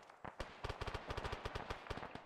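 Rapid gunfire during a military firefight in the video game Arma on the island of Tanoa, a steady run of quick cracking shots at moderate distance, fairly faint and dense with no talking.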